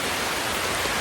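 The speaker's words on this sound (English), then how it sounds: "that's rain. That's not a ghost." Steady rain hisses as a dense, even wash of noise with no breaks, loud and close, with no voices.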